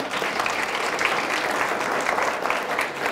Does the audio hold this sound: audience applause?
yes